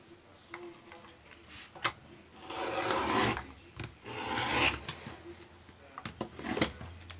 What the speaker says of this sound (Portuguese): esse cortador circular, mais a régua e a base, que é um kit para patchwork, é uma mão na roda pra gente conseguir cortar tudo bem certinho